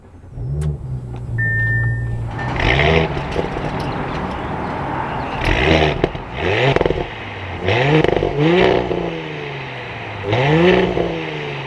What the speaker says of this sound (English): So let's fire up this S4. With my foot on the brake, we can bring this to life.